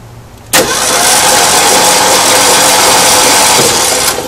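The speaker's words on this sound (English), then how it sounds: "you press the button, and then you should be cranking up." A 1972 Ford Bronco engine, not run for 20 years, cranks on its starter with a loud, steady whirring grind that kicks in sharply after a brief quiet moment and carries on without a break.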